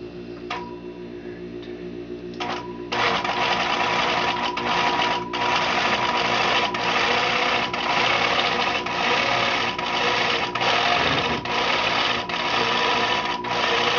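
A longarm quilting machine stitches in a quilting studio with a rapid mechanical ticking hum that speeds up and slows down as it moves in stitch-regulated mode, steady and close with no voices.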